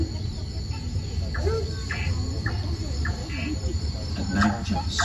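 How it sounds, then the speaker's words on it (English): Dense chorus of crickets trilling steadily through a Singapore forest at night, a continuous high shimmer with brief chirps and faint bird-like calls scattered over it. "All set against a chorus of crickets."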